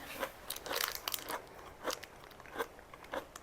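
Chewing a Japanese snack with a wobbly tooth, crisp crunchy bites in irregular bursts close to the mouth, fairly quiet and without talk.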